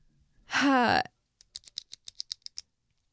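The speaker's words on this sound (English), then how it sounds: "I can hear the pen clicking." After a breathy vocal sigh, a pen clicks about ten times in quick, evenly spaced sharp ticks, close and crisp.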